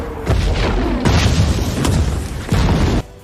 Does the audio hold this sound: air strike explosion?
yes